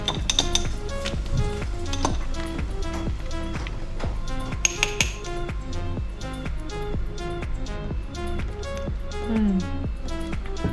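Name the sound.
stirring a shandy beer drink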